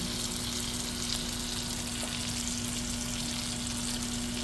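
Half a teaspoon of butter sizzles in a frying pan for an omelet, a steady dense crackle and hiss heard close up, with no talking.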